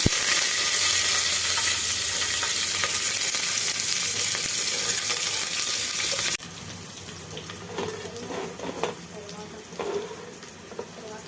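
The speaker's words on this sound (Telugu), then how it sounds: "జీలకర్ర ఆవాలు కొంచెం వేగిన తర్వాత మనం ముందుగా కట్ చేసి పెట్టుకున్న పచ్చిమిర్చి" Green chillies frying with cumin and mustard seeds in hot oil for tomato rice, a loud steady sizzle that drops abruptly quieter partway, followed by softer crackling and stirring.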